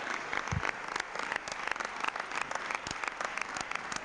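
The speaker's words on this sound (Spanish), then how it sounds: "Recibe los aplausos del Paraninfo de Alcalá de Henares." Applause from an audience filling the Paraninfo hall in Alcalá de Henares at the Premio Cervantes ceremony, a steady dense clatter of many hands that carries on at even strength throughout, with no voices over it.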